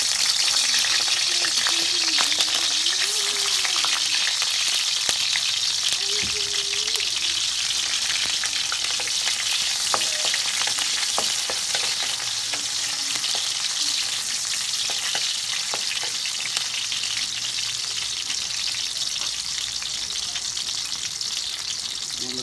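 Chopped onions sizzle in San Miguel cooking oil in a pan for kare-kare, a steady, bright crackling hiss that runs unbroken for over twenty seconds, with occasional soft clinks and faint background sounds.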